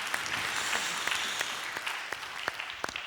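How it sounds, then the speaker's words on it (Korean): Church congregation applauding three performers after a special number, a moderate wash of clapping with a few sharp individual claps standing out, gradually thinning toward the end. "우리 다시 한번 특순해 주신 우리 세 분에게 감사의 박수 한번 하겠습니다"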